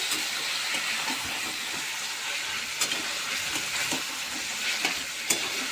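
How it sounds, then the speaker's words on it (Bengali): Meat frying in a pan, a steady close sizzle with scattered crackles and occasional sharper pops throughout, no talking. "মাংসটা আমি দশ মিনিটের মতো ভেজে নিলাম"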